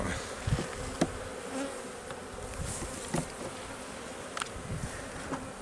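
Honeybees humming steadily inside a hive being rescued at the end of winter, a dense continuous drone with occasional louder individual buzzes passing near, no voices.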